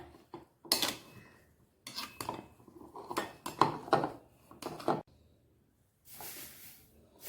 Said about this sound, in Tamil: இந்த பூவை போட்டு தேனை ஊற்றி இந்த சட்டாப்பை இதில் வச்சு நம்ம இப்படி நல்லா கிண்டி கொடுக்கணும்